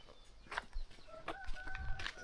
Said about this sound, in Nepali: त्यो कुखुरा अल्छी रहेछ यार बल्ल उठ्दैछ यार